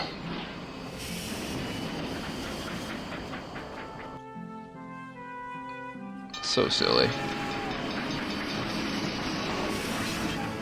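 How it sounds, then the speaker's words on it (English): Video game train sounds from King's Bounty: The Legend, with a jet-propelled train rushing and hissing through dense game noise and a brief loud burst near the end, while someone talks over it. "Jet-propelled train!"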